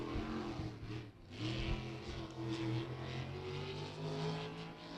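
A race car, the Brame Mechanical Service 44X, accelerates down the back straightaway at Beckley Motor Speedway during qualifying, its engine a sustained roar with rising revving tones, heard at moderate distance over a steady background.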